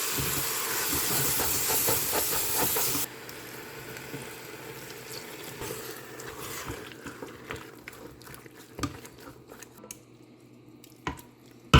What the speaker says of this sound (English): Pressure cook this bad boy.